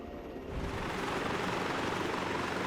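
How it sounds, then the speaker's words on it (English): A helicopter in the Arma 3 military simulator swells from quieter to a loud, dense rotor and engine roar that holds steady, close and with no voices. "Pedals are used to keep the helo out of trim as much as possible, using the airframe to cause additional speed bleed"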